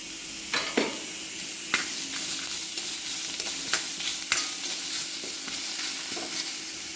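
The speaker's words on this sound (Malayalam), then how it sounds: "കുറച്ച് ഇളക്കിയിട്ട് വറുത്തെടുക്കാം" Spices and coconut sizzle steadily in a hot pan while a spoon scrapes and stirs in occasional sharp strokes, close and with no talking.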